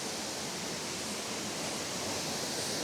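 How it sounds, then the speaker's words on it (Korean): Falling water at Huangguoshu Waterfall in Guizhou, China, makes a steady, close, full-bodied rush with no breaks and no voices. "폭포수가 흐르고 있습니다"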